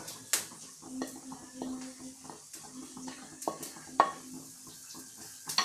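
A sweet mango and date mixture is stirred in a pan over a low flame, giving soft scraping strokes and light clinks of a spoon against metal at an unhurried pace, with faint sizzling underneath.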